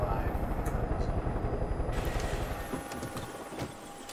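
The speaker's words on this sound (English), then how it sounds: "I'm gonna put the helicopter down somewhere and light some light." A helicopter sets down in the video game Far Cry 5. Its rotor thumps in a fast, low, steady pulse that softens and thins in the last seconds as it lands.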